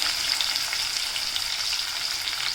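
Finely sliced onion fries in hot oil with a strong, even hiss and crackle close by. The sizzle holds steady throughout and no one speaks.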